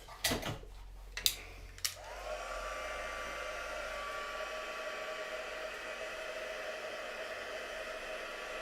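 A hair dryer drying paint on a boot prints stencil. A few clicks and knocks come first, then it switches on and blows a steady, airy whine close by until the end, with no talk over it.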